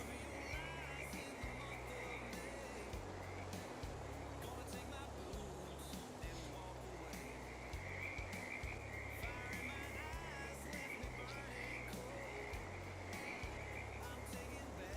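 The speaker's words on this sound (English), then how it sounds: "These frogs are sure loud." Frogs croak loudly and continuously in a Farming Simulator 22 game scene, a steady repeating chorus filling the background alongside faint engine and ambient sounds, with no talk over it.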